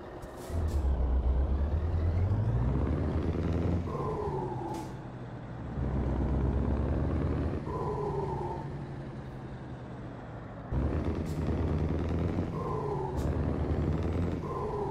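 Truck in Euro Truck Simulator 2 with the ProMods map pulling away, engine rumble rising through gear changes with air brake hisses, loud and close throughout.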